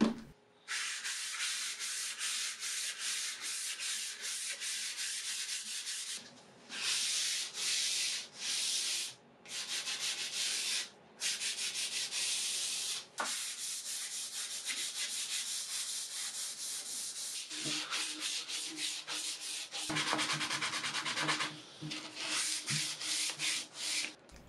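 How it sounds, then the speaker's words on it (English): A primed wooden nightstand surface is hand sanded in long, steady back-and-forth strokes with short pauses between passes, a close, dry scraping hiss. "getting started on the sanding process to make it as smooth"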